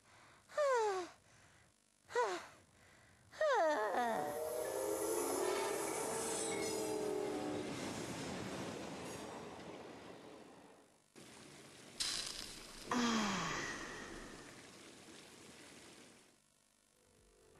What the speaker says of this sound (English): Trains are faster and closer than they appear.